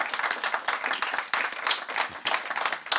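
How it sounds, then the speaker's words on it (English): Close, lively clapping from an audience at a cystic fibrosis charity's anniversary awards ceremony, dense and continuous with slight surges, alone without talk. "So a round of applause for her as well."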